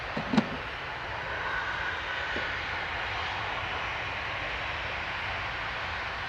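Passenger jet taking off at Manchester Airport, a steady broadband engine roar holding at even loudness throughout, with a brief sharp knock near the start and no talk.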